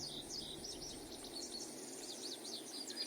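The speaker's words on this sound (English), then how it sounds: "outside you can hear the sound of animals, birds and the like. The sound of wind through the trees." Outdoor ambience with birds chirping and insects trilling in repeated high calls over a steady, soft wash of background noise that may be wind through trees.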